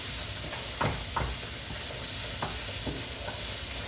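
Celery fries in rendered fat in a pan with a steady hissing sizzle and several brief scraping stirs, close and continuous with no talking.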